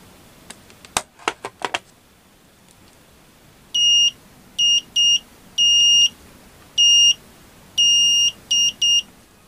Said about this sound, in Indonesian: Oke, kita set di skala buzzer ya.